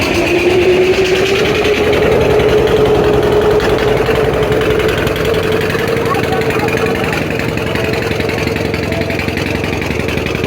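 Passenger launch engine at the Barishal river ghat, a loud, steady low droning hum with constant mechanical rumble running throughout, with a voice talking over it.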